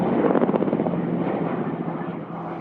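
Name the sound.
Black Shark helicopter in a 1990s feature film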